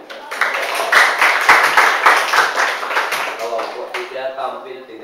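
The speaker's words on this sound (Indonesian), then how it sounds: "Baik, tepuk tangan." A school class claps hands together in a burst of applause, a dense patter of many hands that builds quickly, holds, then thins out, with voices talking over it.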